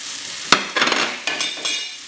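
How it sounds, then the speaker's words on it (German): Cubes of toast bread drop into hot fat in a frying pan for a vegan carrot stew, giving a sharp splash followed by bursts of bubbling sizzle and stirring scrapes, close and fairly loud with no talking. "Ich gebe jetzt meine Toastbrotwürfel in das heiße Fett."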